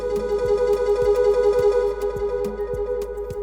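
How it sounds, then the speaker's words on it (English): A flute roll programmed in FL Studio, recreated from a song with added reverb: a sustained, tonal synthetic flute line, steady and fairly loud, accompanied by light percussive hits at a regular pulse. "what I have here is a flute roll."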